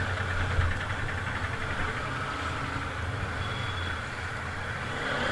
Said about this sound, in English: I just love this engine.